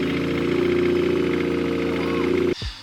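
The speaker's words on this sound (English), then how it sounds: "This new motor in the FRS is a 427 LS NA, completely NA." Naturally aspirated 427 LS V8 swapped into a Toyota FRS, idling with a loud, steady, lumpy burble up close before it abruptly cuts off near the end, followed by a short clatter.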